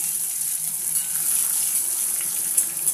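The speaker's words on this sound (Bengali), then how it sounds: "একটু বাদাম ভাজা করে নিচ্ছি এতে" Mung dal, peanuts and garlic fry in a pan with a steady, close hiss and crackle that stays even for the whole few seconds, with no talking.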